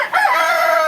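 A tiger breed chicken crows at a roadside bird shop, one loud, close, drawn-out call that starts after a brief dip and holds steady to the end.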